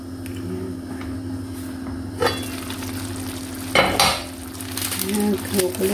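Pork legs cook in a covered pot, giving a steady close bubbling sizzle over a constant hum, interrupted by a few sharp clanks of the lid and utensils.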